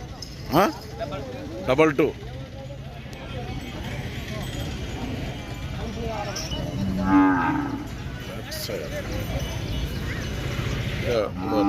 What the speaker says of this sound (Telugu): నల్లమల తూర్పు జాతి ఎద్దులు ఉన్నారు.